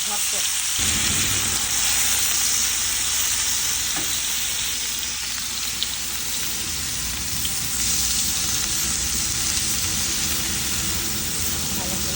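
Onion and tomato fry together in hot oil for a hilsa fish curry, making a dense, close, continuous sizzle with stirring noises throughout and a voice heard at times over it.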